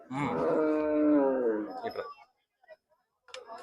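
A buffalo moos loudly and close by, one long drawn-out low call at a livestock market in Tiruvuru, followed by faint background sounds.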